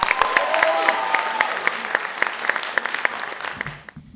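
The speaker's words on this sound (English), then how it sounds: "Let's give her a round of applause." An audience applauds a performer at a spoken word poetry event, with distinct claps over a steady wash of clapping that tapers off and stops near the end.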